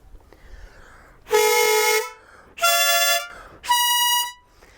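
Three loud, bright reedy chords blare out one at a time with short gaps between them, buzzy and close, from the reeds of a Beskid diatonic button accordion.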